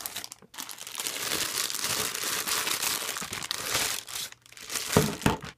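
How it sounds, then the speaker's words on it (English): Plastic packaging is unwrapped from a new HP Pavilion touch all-in-one PC, producing close, continuous crinkling and tearing with brief pauses, loud and alone with no voices. "Let's go ahead and unwrap these."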